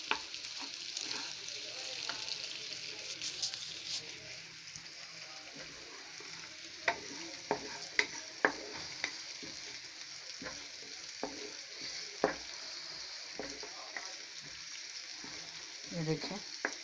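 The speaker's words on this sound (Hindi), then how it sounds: "ये चॉप की हुई जो प्याज है हमारी, इसको हमने डाल देना है। इसको हमने थोड़ा सा हिलाना है।" Chopped onions frying in a pan with a steady bright sizzle, broken by clacks and scrapes of a spoon as they are stirred, close and moderately quiet.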